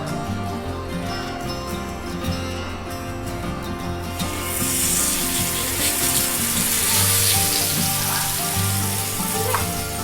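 Marinated fish dropped into hot coconut oil, Kerala-style pollichathu in a banana leaf, bursting into a loud, steady sizzle that swells partway through and continues close and strong without talk.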